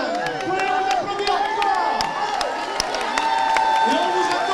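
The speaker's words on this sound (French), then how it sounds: "Vous pouvez vous applaudir" Crowd at a pink October charity run in Rochefort, with scattered clapping and cheering over continuous outdoor bustle, whistle-like tones and voices, moderately distant and steady throughout.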